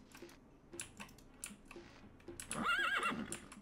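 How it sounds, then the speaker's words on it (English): A horse in the video game Daggerfall Unity lets out a short, wavering whinny near the end, after a stretch of soft clicking and quiet game ambience. "Oh, horse. Very nice."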